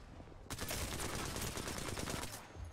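Rapid automatic gunfire in a video game, a sustained burst of close, dense shots lasting about two seconds between quiet stretches.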